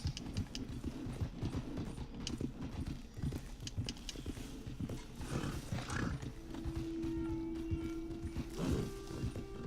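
Horse hooves clip-clopping at a quick, galloping pace in the video game Red Dead Redemption 2, over a steady low rumble, with a brief whinny and a sustained tone near the end.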